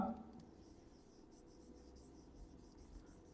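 A pen scratches and rubs across paper as an exam notice is handwritten, producing faint, soft strokes in short irregular bursts against a quiet background.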